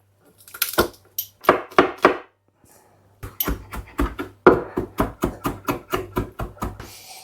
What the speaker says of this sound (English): just coarsely chopping this garlic